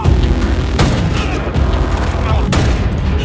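Loud gunshots in a film scene ring out as sharp booming cracks, one near the start and another later, each trailing into a rumbling tail.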